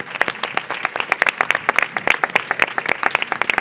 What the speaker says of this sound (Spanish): un aplauso para los componentes de la mesa